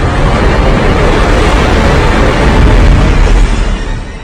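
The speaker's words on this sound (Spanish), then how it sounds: "Repleto de 60 kilos de pólvora, el torpedo es muy potente." A torpedo packed with 60 kg of gunpowder explodes underwater, a loud, dense, sustained roaring blast that fills the whole stretch and fades slightly at the end.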